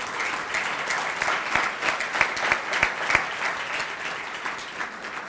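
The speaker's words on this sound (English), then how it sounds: "Let's hear another big round of applause for Ty Cox." An awards ceremony audience applauds steadily, a dense wash of clapping with a few sharper individual claps standing out, sustained for several seconds at moderate distance.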